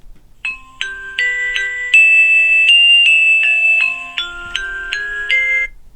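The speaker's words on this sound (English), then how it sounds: "you can set different tones for your notifications." A cheap smartwatch plays notification tone 1, a bright electronic melody of about a dozen quick beeping notes lasting roughly six seconds, clear and close with no talk.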